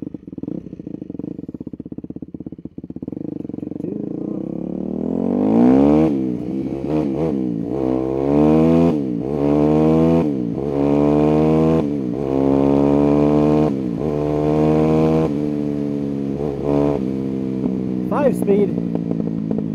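A freshly rebuilt Yamaha YZ250F dirt bike engine cranks, catches, then idles and revs repeatedly in loud rising and falling bursts, close by.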